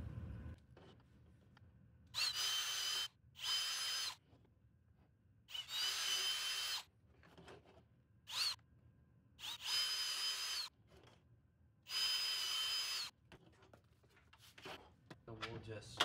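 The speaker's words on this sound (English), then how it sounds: "So I'm going to just go ahead and drill those through." A power drill bores holes for a Puig windscreen mount on a 2020 Husqvarna 701 Enduro LR, running in several close, loud bursts of a second or so each, separated by quiet pauses with faint handling noise.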